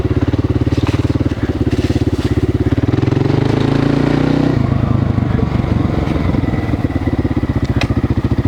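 A motorcycle engine built from worn parts chugs loudly up close while riding in second gear, its rapid firing pulses steady, with the pitch rising and dipping as the throttle shifts midway through.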